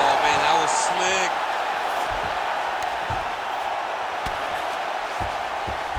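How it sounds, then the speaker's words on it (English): A large arena crowd at the Whittaker vs Chimaev mixed martial arts fight, applauding and murmuring in a steady, dense wash with scattered sharp claps, while a commentator talks over it. "they can take in the applause because they deserve it after that grappling exchange"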